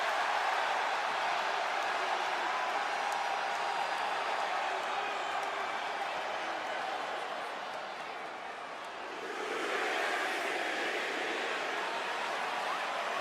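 A wrestling arena crowd roars in a loud, steady wash that dips briefly and then swells back up. A commentator talks over it.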